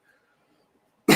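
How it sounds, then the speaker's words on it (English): A single short, loud cough bursts out at the very end after near silence, close to the microphone. "You have to pardon my cough there."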